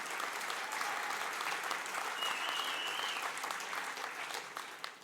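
Sustained audience applause fills a ceremony hall at a music industry award speech, a dense even wash of clapping that holds steady for several seconds before tapering slightly at the end.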